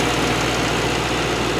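A Mercedes-AMG G63 Edition 1 with a 4-liter twin-turbo V8 running: a steady, loud, deep engine rumble held evenly throughout, with no pauses or voices.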